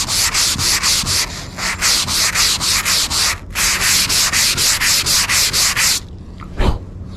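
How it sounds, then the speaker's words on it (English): Light hand sanding of body filler on a widebody Subaru STI car body: a steady run of rhythmic back-and-forth rasping strokes, close and loud, with a brief pause midway before a final thud. "just a little bit of light sanding"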